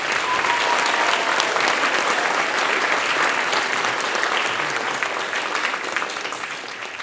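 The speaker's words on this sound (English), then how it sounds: "Let's give them a big round of applause." Audience applause at a middle school spring concert, a full, dense round of clapping from the crowd that holds strong for several seconds and then gradually thins toward the end.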